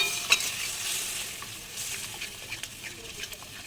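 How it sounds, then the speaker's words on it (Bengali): Spice paste for an egg dish frying in a pan with a little water added, a bright hissing sizzle that settles into a softer bubbling crackle with occasional utensil taps. "জলটা দিয়ে এবার মশলাটাকে কষাবো বলে একটু জল দিলাম"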